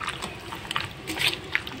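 Soy sauce poured into a marinade with onions, a faint, close liquid trickle with small splashy drips over quiet kitchen background.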